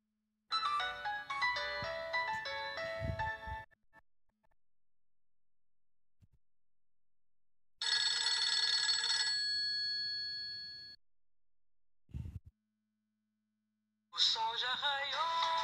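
An old Nokia 2630 mobile phone plays its polyphonic ringtone in separate bursts, bright melodic phrases with pauses between, close and fairly clear, alone without talk.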